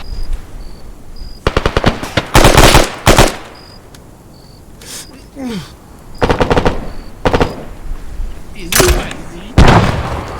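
Automatic gunfire in the military shooter game Arma 3 during a building assault, loud repeated bursts and single shots clustered across the clip, with short quiet gaps and faint in-game tones between volleys.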